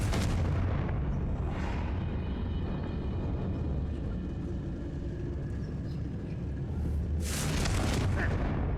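A Confringo fire spell in Hogwarts Legacy bursts as a loud, booming blast with a rumbling roar that fills the whole clip, swelling again near the end, with no talking over it.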